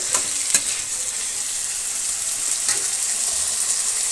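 Vegetables with a quarter spoon of salt are stirred in a hot pan, giving a loud continuous sizzle broken by a few sharp scraping strokes of the utensil, with no talking.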